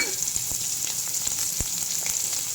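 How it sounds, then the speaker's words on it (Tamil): Ginger and onion sautéing in a pan for a drumstick-leaf chutney, a loud, even sizzle throughout with scattered soft stirring taps close by. "இதெல்லாம் இதில் அப்படியே வதக்கணும்"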